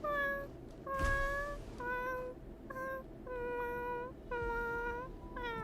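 Several plaintive meows from creatures in the video game Honkai Star Rail, fairly close and clear, each a drawn-out whining cry with short gaps.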